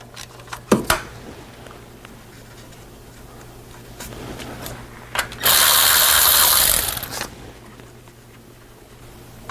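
A ratchet wrench works a 13mm nut loose on an AC compressor line of a Chrysler Town & Country, giving a few sharp clicks, then a loud sustained burst of rapid ratcheting and some quieter tool clatter.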